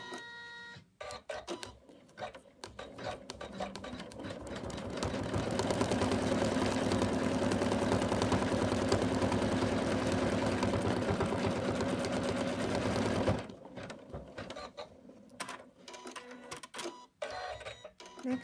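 An embroidery machine stitches a satin-stitch outline on an in-the-hoop snowman stocking, a dense, rapid mechanical whirring and clatter that swells to a loud steady run for about eight seconds, with quieter intermittent clicks and taps before and after.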